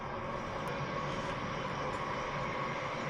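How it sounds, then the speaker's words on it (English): A train rumbling past outdoors, a steady broad roar holding at constant level for the whole stretch, moderately loud with no talk over it. "excuse me while the train goes past again"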